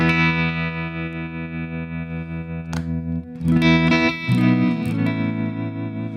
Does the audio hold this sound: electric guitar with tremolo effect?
yes